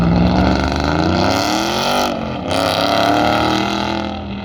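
A pro touring truck with a new engine runs an autocross lap, its loud, close engine note rising and falling with revs and easing briefly mid-run before pulling hard again.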